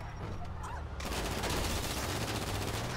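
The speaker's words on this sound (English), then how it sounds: "Alright, we're gonna SMG his ass." Rapid submachine gun fire in Grand Theft Auto 5, a dense continuous burst that kicks in about a second in and keeps going loud and close, layered over game ambience.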